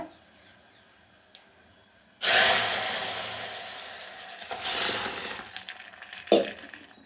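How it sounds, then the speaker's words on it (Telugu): Pepper rasam poured into a hot tempering in a pan with the stove off makes a sudden loud sizzle and splash, then fades and swells again, ending with a sharp clink. "ఇప్పుడు ఏం చేస్తానంటే ఇందులో నేను చారు పోసేస్తానండి"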